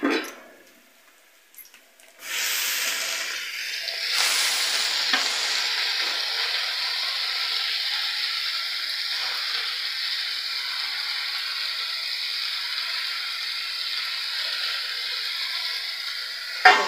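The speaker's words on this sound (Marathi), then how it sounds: "कांदा आणि मिरची अशी पोळली, नरम झाले तर भाजी टाकून घेते मी." Onion, green chili and drumstick leaves fry in a pan with a continuous bright hiss that starts after a short quiet moment and carries on steadily at moderate loudness.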